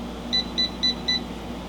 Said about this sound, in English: Supposed to hear 4 beeps, that means it's ready.